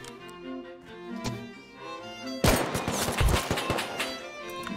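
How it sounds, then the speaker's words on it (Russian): Video game gunfire erupts midway in rapid, loud bursts of shots and impacts, following quieter tonal game sounds. "Да чё он так больно стреляет"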